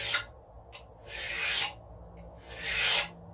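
Three rasping file strokes sharpening a steel card scraper, each a broad scraping burst lasting about half a second, with short pauses between them and a faint light tick in one gap; no voice.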